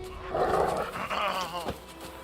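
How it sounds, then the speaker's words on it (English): A dog in The Witcher 3 video game lets out a few rough, close barks and yips over about two seconds, loud against low background game sound. "I like your dog."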